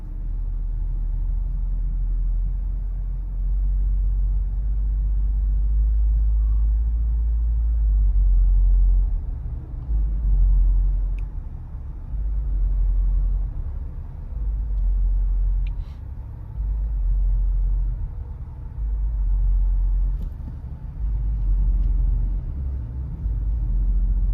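A 2022 Lexus LX600 F Sport accelerates in eco mode, its engine a deep, steady rumble heard from inside the cabin, swelling and easing in broad waves along with road noise, with no talking.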